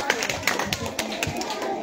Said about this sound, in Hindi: जोरदार ताली के लिए